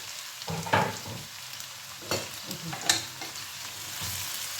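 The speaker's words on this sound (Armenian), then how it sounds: "հիմա կարտոֆիլն եմ լցնում" Potatoes tipped into a hot pan already frying green beans and chicken pieces, giving a steady close sizzle with louder clattering bursts of stirring and shifting food, no voices.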